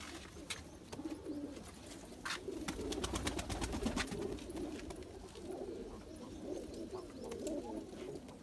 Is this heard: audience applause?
no